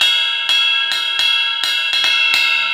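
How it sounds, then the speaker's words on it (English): Bell of a Sabian cymbal on a four-piece Ludwig kit, struck six times in an uneven rhythm, each hit a bright sustained ping ringing close and clear without talk. "Has a very nice bell."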